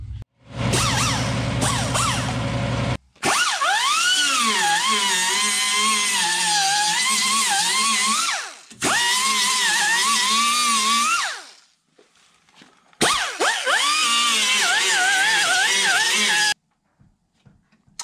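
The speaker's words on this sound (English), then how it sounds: "So I'm gonna get the sanding on this and then probably get to painting." Power sander grinding rust off the body of a 1988 Ford Bronco II, a loud continuous whine in three long bursts separated by brief pauses, close to the microphone with no talking.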